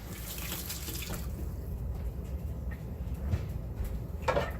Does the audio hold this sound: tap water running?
yes